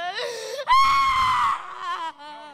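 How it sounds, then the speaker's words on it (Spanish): A woman screams loudly and up close during a Pentecostal church exorcism, a long high wailing cry that rises, breaks off and resumes in shorter strained bursts. "Así grita el diablo, oyentes."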